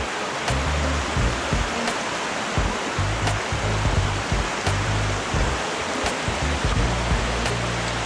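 Water rushes steadily down a creek that feeds a reservoir dam. It is a constant, loud roar of flowing and splashing with no speech.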